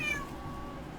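A cat gives a single short, high meow at the start, close and clear, before fading into quiet room noise.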